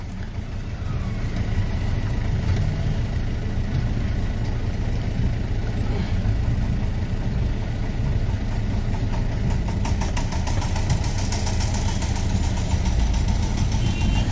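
Many vehicle engines idle together in a massive roadside traffic jam, a steady low rumble with continuous mid-range hum and occasional higher mechanical rattles, loud and unbroken throughout.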